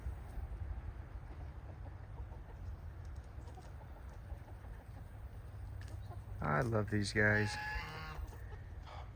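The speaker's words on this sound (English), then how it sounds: "Here's some of my chickens." Backyard chickens clucking and murmuring in the background, then a louder close burst of clucks and squawks near the end, with someone speaking softly over it.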